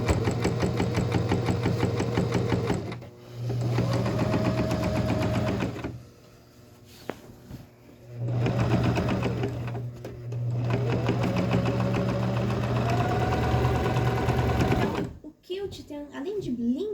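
Sewing machine quilting through patchwork layers along a seam, running in several steady bursts of rapid stitching separated by short pauses, close and clear while someone talks over it.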